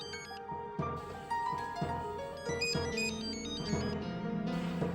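A phone ringtone plays on its own, a steady repeating electronic melody that rings continuously and clearly, with no voices over it.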